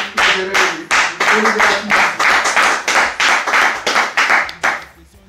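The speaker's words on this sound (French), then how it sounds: "on acclame." Applause at a spiritual wedding ceremony at Chemin du Ciel in Tunisia: close, loud rhythmic clapping from a group, arriving in repeated bursts for about five seconds before fading.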